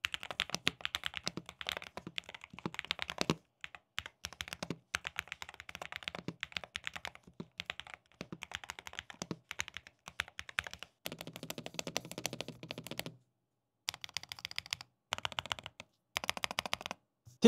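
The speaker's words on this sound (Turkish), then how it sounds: "İsterseniz yazım deneyimine geçelim." Rapid clacky keystrokes from an ASUS ROG Falchion Ace HFX 8K mechanical keyboard come in bursts, with brief pauses and a quick flurry of fast typing near the end.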